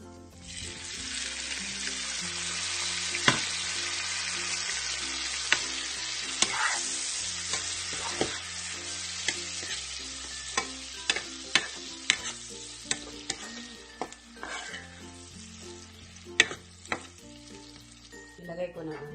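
Shrimp frying in a pan for garlic buttered shrimp, with a steady sizzle throughout and frequent sharp clicks and scrapes of a utensil stirring against the pan, close and fairly loud, alongside a low background hum.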